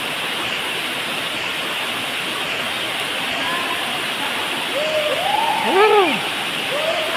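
Steady rushing hiss of a waterfall pouring down inside a cave in Samar, loud and unbroken, while voices shout and whoop over the water toward the end.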